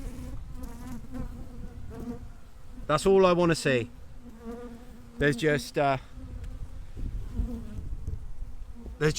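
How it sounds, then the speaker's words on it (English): A low, continuous buzz of a honeybee colony in a hive hums throughout while a person speaks briefly over it in two short bursts. "more bees in there than there was before"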